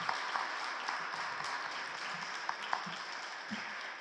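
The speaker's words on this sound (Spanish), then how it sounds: "nada más les pido un gran aplauso para la maestra María Elena" Applause from a lecture audience honoring a teacher after a museum-learning talk, a steady dense wash of many hands clapping for about four seconds with a few sharper claps standing out.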